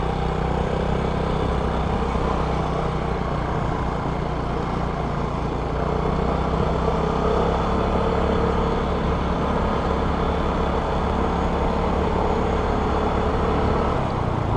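A Vespa Sprint 150 ABS scooter being ridden, its small engine droning steadily with wind rush, a constant, unbroken hum close to the rider over the whole stretch.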